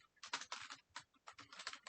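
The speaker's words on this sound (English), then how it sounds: "Then you have to type Y and hit enter." Quick bursts of keystrokes on a computer keyboard while entering a terminal command, close and crisp, in two short clusters with brief pauses.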